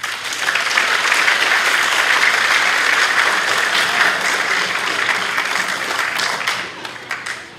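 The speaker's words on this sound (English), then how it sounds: "We can give those students a round of applause." An audience at a middle school spring concert gives the students a round of applause: sustained, full clapping from many people that holds steady, then thins and tapers off toward the end.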